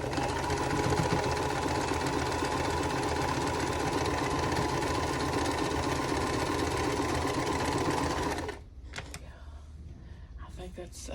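A sewing machine stitches quilt block pieces along the background side in a steady, close, continuous whir, then stops abruptly near the end, leaving quiet handling noises and faint rustle.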